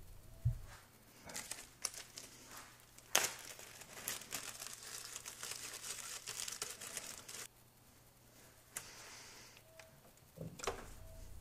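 Plastic bag crinkling around a turbo oil feed line during a turbo system teardown, faint intermittent rustles and crackles with a few sharper crinkles, close by and without talk.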